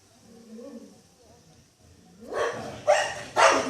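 A village house dog, kept tied up outdoors, gives two or three loud, sharp barks close by after a quiet stretch with faint household noise.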